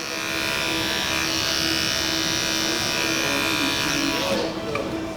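Electric animal hair clipper with detachable blades cutting human hair for a bald fade, giving a steady loud buzzing hum throughout, close up, with a brief dip near the end.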